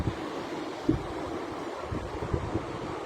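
Ocean waves washing in a steady, broad rush with gentle swells and some wind across the microphone, continuous and moderately loud, with no voices.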